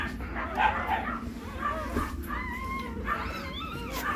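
A puppy yips and whines in short, high bursts over a low background hum, fairly close, with no clear talking.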